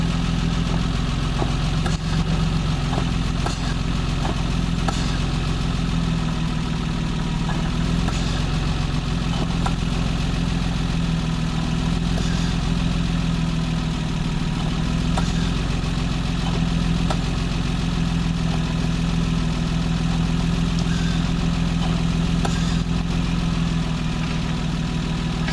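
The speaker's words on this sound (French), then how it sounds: "c'est tout de même un démarrage à froid" A BMW E30 engine idles steadily after a cold start, a loud, even, continuous rumble with a constant low drone and no speech throughout.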